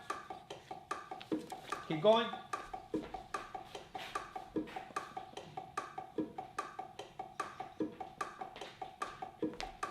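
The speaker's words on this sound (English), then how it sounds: "Who knows what the bongo is playing?" A steady, quick pattern of sharp hand-drum strikes, like bongos, repeats throughout at a driving salsa pace while a voice talks over it.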